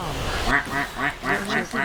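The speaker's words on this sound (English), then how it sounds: "Now, I'm about to get polymorphed into a duck." Repeated nasal quacks from a player character polymorphed into a duck in World of Warcraft: Dragonflight, about six evenly spaced calls over game sound and a talking voice.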